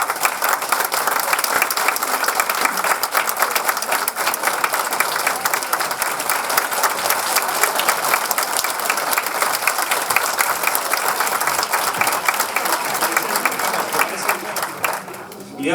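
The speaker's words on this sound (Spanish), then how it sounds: "Un fuerte aplauso, por favor." Loud, sustained applause from an audience at a welcoming introduction for a criminology guest speaker, dense steady clapping lasting about fifteen seconds and fading slightly at the end.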